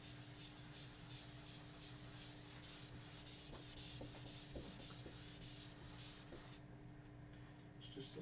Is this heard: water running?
no